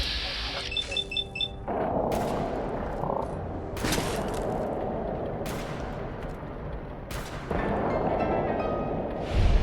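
Turret gunfire from the video game Fallout 4 rattles out in several loud bursts of rapid automatic shots, separated by short pauses and mixed with booming impacts.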